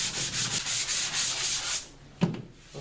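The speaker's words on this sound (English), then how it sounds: "I think what we're going to need to do with ours is just light sand it" Light hand sanding over a dried drywall patch during a repair of a large hole, steady rhythmic rubbing strokes for nearly two seconds, then a pause and a single sharper scrape near the end, close and clear with no talking.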